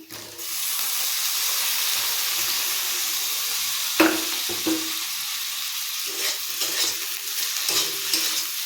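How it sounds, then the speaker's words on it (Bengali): Tomato, taro and ginger paste frying in hot oil, a steady sizzle with scraping stirs and occasional clinks from the pan close by, no talking. "এর মধ্যে দেবো টমেটো কচু আর আদা বাটা"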